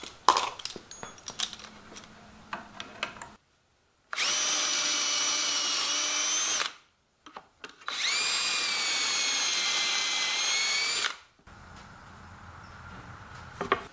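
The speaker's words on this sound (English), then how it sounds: "I'm going to be using pocket hole screws to attach the sides to the top and bottom" A power drill drives pocket hole screws into wooden panels for an art wall display. Two long, loud whirring runs are separated by pauses, and quieter handling clicks and taps come before and after them.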